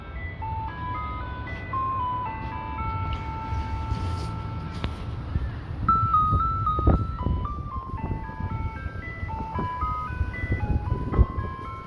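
An ice cream truck's chime plays Für Elise in cold weather, a bright repeating tinny melody carrying steadily over low street rumble and passing traffic noise.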